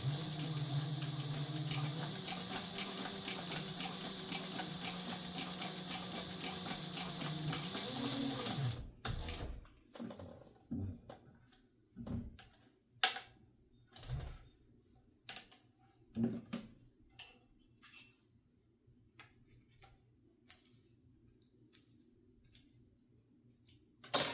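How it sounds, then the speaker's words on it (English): A sewing machine back stitches seams on a satchel, first running in a steady whirring burst for several seconds, then falling to scattered, short clicking bursts and taps as the stitching slows and stops. "I'm going to turn this down to a sewing length. I'm going to back stitch."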